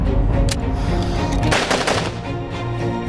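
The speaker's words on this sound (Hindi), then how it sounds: "चलाओ गोली" Heavy gunfire in a television drama scene, rapid automatic bursts and overlapping shots rattling loudly and continuously, close and dense with sharp individual cracks standing out.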